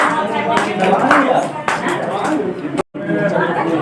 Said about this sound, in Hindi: ताली बजाइए, आप लोग करते हैं।